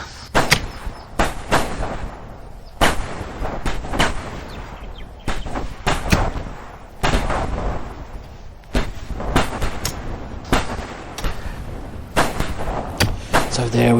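Rapid volleys of gunshots from a dramatised audio scene crack out one after another as irregular sharp bangs, with short gaps between bursts and a few heavier blasts.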